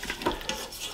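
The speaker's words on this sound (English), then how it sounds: "I've got a plastic coated whisk." Plastic-coated whisk stirring and scraping in a pan during cooking, a brief soft swishing with a couple of light taps, close and alone.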